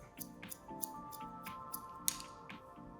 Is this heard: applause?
no